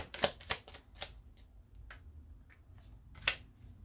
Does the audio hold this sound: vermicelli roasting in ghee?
no